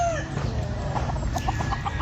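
A gamecock rooster at a cockfighting derby gives a quick run of about seven short, close, fairly loud clucks in steady rhythm, with no talking.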